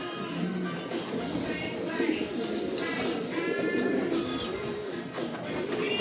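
Racing pigeons at a loft in Tacloban, Leyte, restless and unfed after a day of fasting, keep up a dense, steady chorus of overlapping coos and fluttering calls, with no speech over them.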